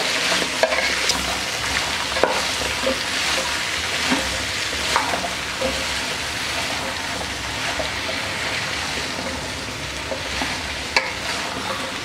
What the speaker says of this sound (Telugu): అలాగే ఆలుగడ్డ, అలాగే సొరకాయ, క్యారెట్, బెండకాయలు ఇవన్నీ వేసి ఒకసారి బాగా కలుపుకోవాలి.